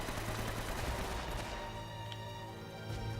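Gunfire in Uncharted: Drake's Fortune, a dense burst of rapid shots that thins out after the first second and a half into scattered distant cracks over a low rumble.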